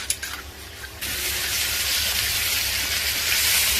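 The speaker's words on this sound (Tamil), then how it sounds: "இப்போ இஞ்சி பூண்டு பேஸ்ட் போட்டுக்கலாம். நல்லா பச்சை வாசனை போற வரைக்கும் நல்லா வதக்கிக்கலாம்." Ginger garlic paste sautés with onions in a hot pan, a loud, steady sizzling hiss that swells after a brief quieter moment and stays strong to the end.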